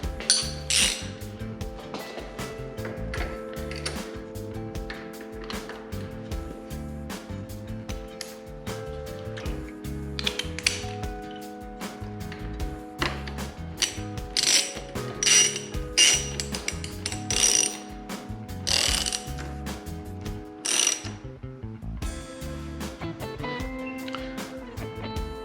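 A hand ratchet tightens a size-16 bolt on a Puig Pro frame slider fitted to a 2022 Kawasaki Z900, a steady close-up run of rapid clicking pawl strokes lasting well over twenty seconds, with no talking.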